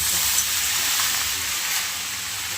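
Amaranth greens hit a hot pan and set off a steady, loud, broadband sizzle that hisses without a break throughout.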